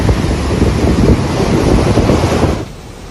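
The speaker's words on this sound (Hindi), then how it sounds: "ये उस महा तूफान की दस्तक है जो भारत में एंट्री कर चुका है।" Cyclone-force wind roars over a high, surging sea, a loud, continuous broadband rush with heavy buffeting on the microphone that drops off suddenly near the end.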